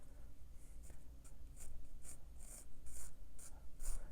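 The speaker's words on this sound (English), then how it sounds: "Okay, so let's just get in and start drawing." Pencil sketching a plum on watercolour paper, soft rhythmic scratchy strokes close by, repeating in short regular bursts with no talking.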